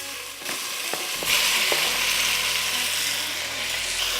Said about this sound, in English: Give it a stir. All we want to do is brown this on all sides.